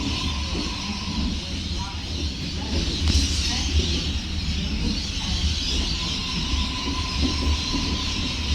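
Train at Epping station during the afternoon peak, a steady rumble and hiss of rail noise filling the platform, with people talking faintly beneath it.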